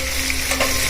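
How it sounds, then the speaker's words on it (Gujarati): Curry leaves, mustard seeds and fenugreek crackle in hot oil as a tempering for khaman dhokla, a short, close burst of bright, dense sizzling with no voices. "રાઈ મેથી દીધી છે અને આપણે કઢી પત્તા"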